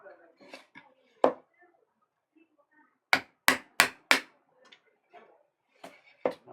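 A mallet strikes a chisel carving a woodblock for Japanese printmaking: sharp, close knocks, a lone hit followed by four quick blows in a row and a few more later, with faint soft handling sounds between.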